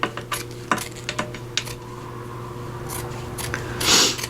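Scissors trim excess paper off a gatefold journal cover, a run of quick crisp snips and rustles near at hand, followed by a longer paper swish toward the end.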